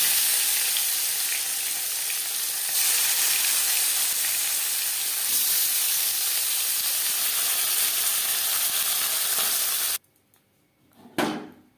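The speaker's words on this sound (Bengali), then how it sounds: "একটা পাত্রে উঠিয়ে নেওয়ার পর দ্বিতীয় ব্যাচে মাছ ভেজে নেব।" Rupchanda pomfret fish fry in hot oil with a dense, steady sizzle that holds for about ten seconds, then cuts off abruptly, followed by a brief clatter.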